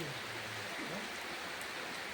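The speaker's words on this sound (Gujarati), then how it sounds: "જો ચાલુ થઈ ગયો વરસાદ." Rain falls steadily in rural Gujarat as a soft, continuous hiss, faint and even throughout, with a brief low tone near the start.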